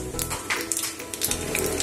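Cumin seeds tempering in hot oil for a fasting chutney, a close crackling sizzle with sharp popping bursts and a brief stirring lull midway, no voices.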